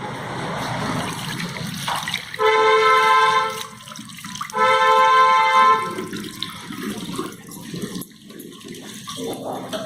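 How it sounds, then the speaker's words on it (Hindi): A tap runs in two strong gushes of water for hand washing at home, with quieter splashing and trickling between and after them. "मैं जा रही हूँ ये थोड़ा सा हाथ धो लूँ"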